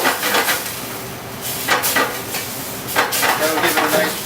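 Butter dropped into a hot pan for shrimp scampi, producing close, loud sizzling bursts with stirring and scraping of a utensil against the pan, no talk.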